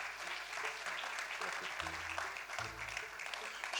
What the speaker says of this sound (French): Je pense qu'il mérite encore plus d'applaudissements.